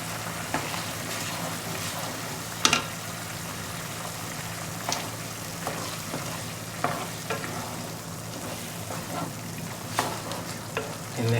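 Tapioca starch slurry stirred into thickening rad na gravy in a wok, a steady close-up sizzle with repeated scraping spoon strokes and occasional sharp clinks, no talking.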